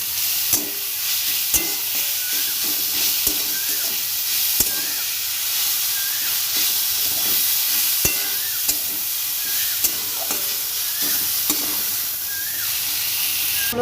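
Food frying in a pan while a Bengali fish curry is cooked, with a steady sizzling hiss throughout and repeated light stirring clicks and scrapes; no talking.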